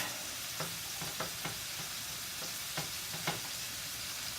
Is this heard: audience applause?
no